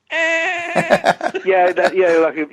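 A voice imitates a goat's bleat, singing a wavering, quavering, nasal tone up close, first as one long held note and then in a string of short, shaky pulses.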